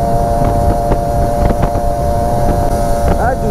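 A stock Kawasaki motorcycle speeds along a highway. Its steady engine drone is heard close up beneath heavy rushing wind buffeting the microphone, with a few short gusts and knocks.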